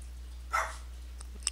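A single dog barks at someone walking past outside, one short bark burst early on followed by a couple of faint yips, heard at a distance with no talking.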